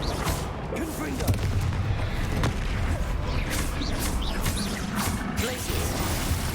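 Fire spell explosions go off in Hogwarts Legacy, heard as loud crashing booms inside dense, continuous combat noise with no quiet gaps.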